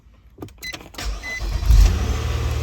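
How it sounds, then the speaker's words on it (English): Car engine starting with a push-button ignition: a few clicks, a brief starter crank, then the engine catches and settles into a loud, steady idle close to the microphone. "And the car starts right up."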